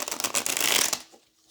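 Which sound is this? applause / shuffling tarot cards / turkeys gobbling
shuffling tarot cards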